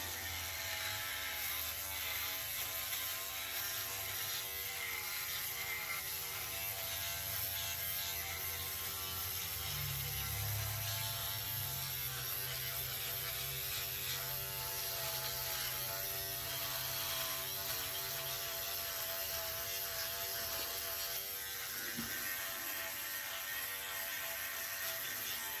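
A Philips OneBlade electric trimmer buzzes steadily through a three-week beard, a continuous close mechanical hum with faint rasping as it cuts, running for the whole stretch with no talking.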